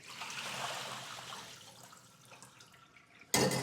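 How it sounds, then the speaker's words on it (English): Water trickles and drains steadily as it is strained from chopped kale at a kitchen sink, a soft continuous flow that fades, then ends with a sudden louder splash. "you can use something like this to strain the water from the kale"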